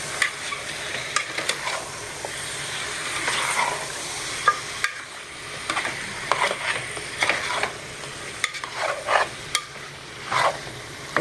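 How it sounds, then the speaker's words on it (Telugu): Masala curry stirred in a pan, with repeated scraping strokes and a steady sizzle underneath. The stirring comes in irregular bursts, close and fairly loud, and there is no talking. "ఒకసారి అంతా బాగా కలుపుకుంది మసాలా అంతా ముక్కుకి కలిసేలాగా కలుపుకుందాం"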